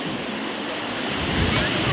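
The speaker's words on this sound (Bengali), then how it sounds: "চলে ঢেউটা দেখো" Ocean surf breaking continuously on a beach, a steady broad wash of waves that swells slightly louder toward the end, with wind rumbling in the background and no voices.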